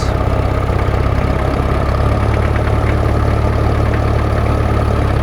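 A tractor engine idles with a loud, steady low-frequency chug close by, holding an even rhythm without a clear rise in revs.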